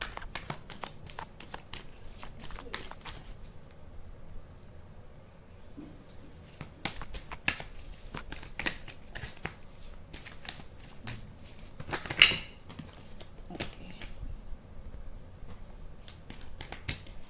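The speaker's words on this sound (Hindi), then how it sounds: "कुछ कार्ड्स गिर गए थे।" Tarot cards are shuffled by hand in soft, rapid bursts of crisp riffling clicks with short gaps between them, with a sharper slap where some cards fall, all fairly quiet.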